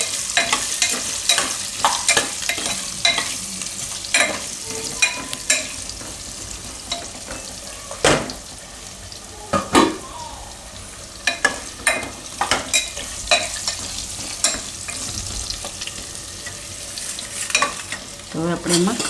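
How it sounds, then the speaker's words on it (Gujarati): Purple yam pieces stirred in hot oil in a pan, a steady sizzle and fry broken by repeated scraping knocks of the spoon against the pan at an uneven rhythm. "થોડીક વાર આ રીતે આને તેલમાં ફેરવી લેવાનું."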